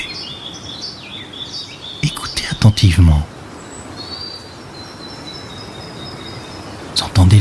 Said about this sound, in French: Vous entendez les gazouillis joyeux des oiseaux qui s'envolent